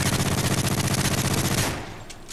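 Rapid, loud automatic fire from an MP7 submachine gun fired from the hip in Modern Warfare 3, one unbroken rattling burst of evenly spaced shots for about a second and a half, then a short fading echo.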